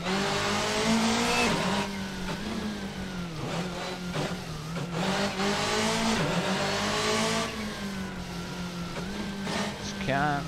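Car drifting in the Assetto Corsa racing game on a Monte Carlo snow rally stage, engine revving loudly with sustained tire squeal and skidding that rises and falls across the run.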